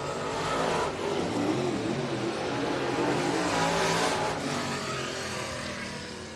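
Modified touring race cars roaring around the track in a heat race, as a steady, loud engine drone swells and eases while the pack passes, with no commentary over it.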